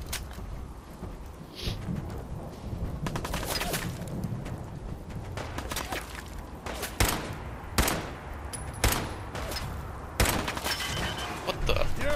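Gunfire in Fallout 4 crackles through the whole stretch as repeated sharp shots and bursts over a noisy rumbling background, some reports louder and nearer than others, with a voice briefly present.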